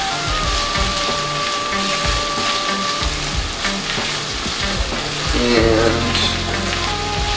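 Garlic frying in ghee for chicken tikka masala, a steady loud sizzle and crackle with some stirring, while a person speaks briefly over it.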